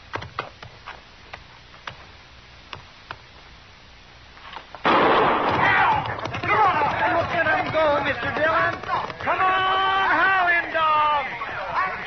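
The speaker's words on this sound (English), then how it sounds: "Now I'll fire one shot." One gunshot cracks out partway through a scene from an old western, abruptly followed by loud crowd commotion and overlapping voices.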